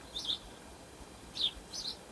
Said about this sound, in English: That sounds like a robin.